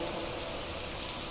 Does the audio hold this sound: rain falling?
yes